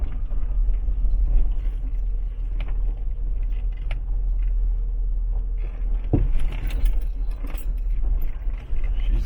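A 1986 Jeep Grand Wagoneer rolls downhill in four-wheel drive, its engine a steady low rumble under continuous road and cabin noise, with a brief sharp knock or jolt partway through.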